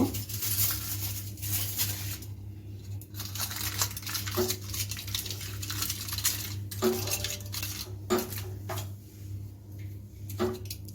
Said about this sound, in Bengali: একটু ফুটো করে নিচ্ছি চাকু দিয়ে এখন একটা কাটি দিয়ে দিচ্ছি